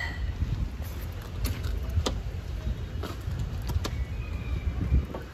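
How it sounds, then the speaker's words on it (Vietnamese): A Yanmar YM2002D four-wheel-drive tractor runs with its engine idling, a steady low rumble broken by occasional sharp clicks and knocks. "để nổ máy chạy cho các bạn xem chất lượng của máy móc"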